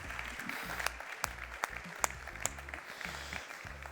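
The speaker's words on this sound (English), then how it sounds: "we can clap." A small audience claps to welcome a speaker at a sustainability talk, sparse and fairly faint claps with a few sharper ones standing out over a low hum.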